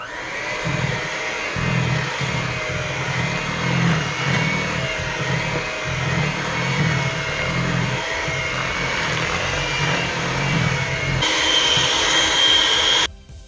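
An electric mixer whirs steadily for several seconds with a pulsing, droning motor hum as it blends white and brown sugar for a sweet potato pie, then cuts off abruptly.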